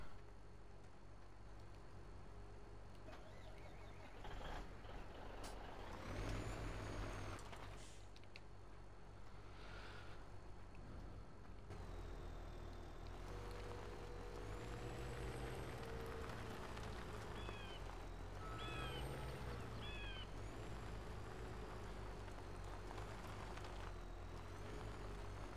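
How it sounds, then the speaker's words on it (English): A truck in a farming video game rumbles as it is backed up. The low engine drone carries on throughout, with short tonal beeps and brief hissing bursts in the middle and later stretches. No one speaks. "Oh, I need to bring that truck back a bit."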